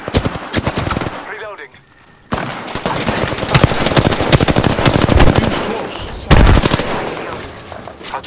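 Rapid automatic gunfire from an Apex Legends match rattles loudly and almost continuously, with a brief lull near two seconds and a heavy blast-like burst toward the end.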